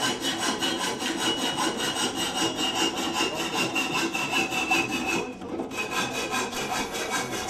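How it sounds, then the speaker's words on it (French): Cast aluminium cooking pots being deburred in a small artisanal foundry's finishing workshop in Madagascar, heard as a close, continuous rhythmic rasping, filing scrape with rapid repeated strokes and one brief pause. "Une fois démoulés, les récipients seront passés à l'atelier de finition pour être"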